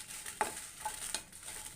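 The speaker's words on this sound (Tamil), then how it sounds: "மிளகா போட்டு சும்மா லைட்டாக வறுத்துக்கலாம்" Red chillies lightly dry-roasted in a pan for idli podi, faint quiet rustling and a few soft scraping stirs, brief and low in level.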